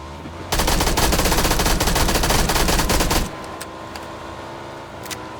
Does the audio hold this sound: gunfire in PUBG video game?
yes